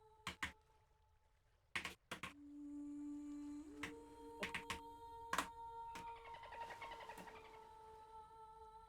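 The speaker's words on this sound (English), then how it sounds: "I thought that was your keyboard clicking." Sharp, sparse computer keyboard clicks come in irregular bursts at moderate distance, with a steady electronic tone and faint bubbly sounds running behind them; no speech.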